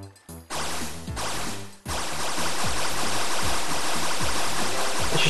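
Rushing water floods a space in a modded Minecraft-style video game, a loud, steady wash that surges after a brief break near two seconds, with musical tones layered underneath.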